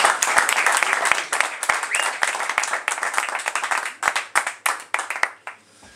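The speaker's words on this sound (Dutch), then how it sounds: "Groot applaus." Applause at a Dutch press presentation: a room full of hands clapping in sharp, dense bursts that thin out into a few scattered claps before dying away.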